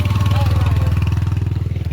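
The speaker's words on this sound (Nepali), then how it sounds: "यहाँ चाहिँ गाडी आउँदैछ, बाइक आउँदैछ।" Close and loud, a motorbike engine thumps in a rapid, even pulse as the bike approaches during a Durga Puja festival outing.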